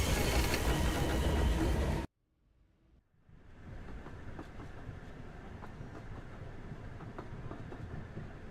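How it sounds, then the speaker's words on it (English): A video game train runs on its rails. A loud rushing burst cuts off abruptly into near silence, then a steady low rumble with faint clicking wheels resumes and carries on evenly. "Let's get to the driver's cab and try to stop this train."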